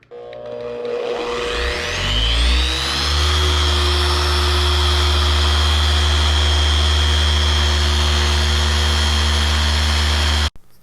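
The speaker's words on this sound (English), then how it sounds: "So now we're ready to start polishing." A machine polisher working cutting compound on black car paint spins up over two seconds into a loud, steady, high whirring drone that holds evenly, then cuts off abruptly near the end, close with no talking.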